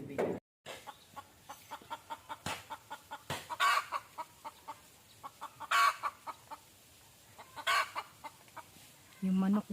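Chickens cluck in short, irregular bursts at moderate distance by a banana tree on a farm, with occasional louder calls over quiet outdoor background.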